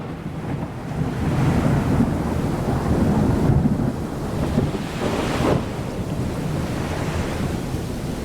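Thunder rolls through a stormy sea in a sailing game, broad and continuous with wind and surf, swelling midway and cracking briefly near the end.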